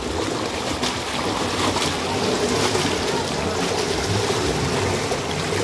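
Cold water rushes at the Fewa power house in a loud, continuous roar. The broad, steady wash of sound never lets up.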